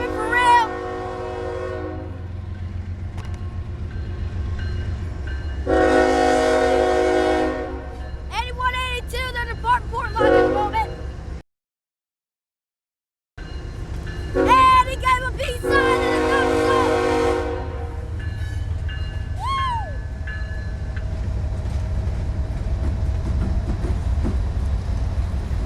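A freight train pulls out of Portlock Yard in Norfolk, Virginia, its trailing locomotive rumbling steadily while two loud, sustained horn blasts ring out, with a brief dropout between them.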